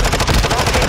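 Rapid automatic gunfire in Warzone 2.0 on Ashika Island: a dense, continuous burst of loud, close shots that fills the whole moment.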